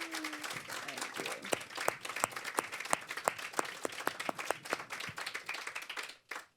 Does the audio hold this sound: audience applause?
yes